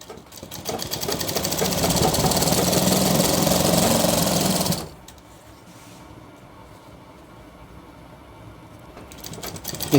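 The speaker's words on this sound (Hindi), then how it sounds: "इस प्रकार से हमें सिलाई लगानी है शोल्डर की।" A sewing machine runs fast and steadily for about five seconds while stitching a shirt's shoulder seam, then cuts off abruptly, leaving a quiet room hum with no talking.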